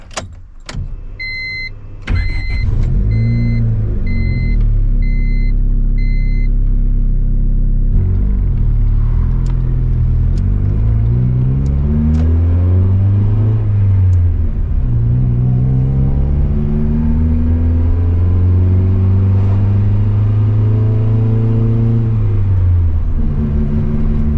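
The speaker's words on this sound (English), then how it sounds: "Let's fire this thing up, take it for a ride, and see if we fixed our leak." A turbocharged Honda Civic with a rebuilt engine is started in a garage after a fix for a leak, a chime and crank, then loud idle and repeated revving pulls as it drives off.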